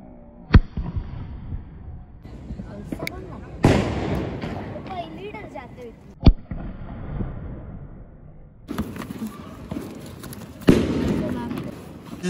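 Firecrackers burst at a New Year party, several sharp loud cracks and booms scattered through the clip with crackling bursts, while people talk and cheer in between.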